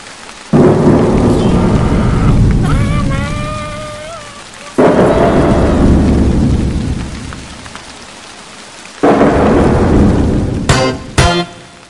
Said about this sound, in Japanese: 沖縄に行くと雨が降っててみんなびっくり